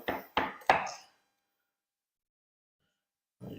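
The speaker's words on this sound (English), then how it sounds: "chop that up" Kitchen knife chopping food into chunks on a board, three quick sharp chops in a row, then silence before one more soft knock at the end.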